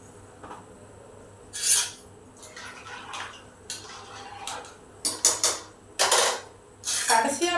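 Metal spoon scraping and clinking against a pot while salt is stirred into rice and dal, a few separate bursts of clatter near the end, no talking.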